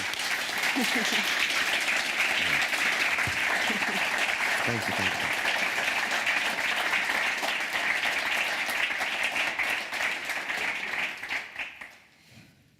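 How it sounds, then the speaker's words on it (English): An audience breaks into sustained applause, loud and continuous, while a voice speaks briefly over it; the clapping dies away near the end. "let's give an applause first"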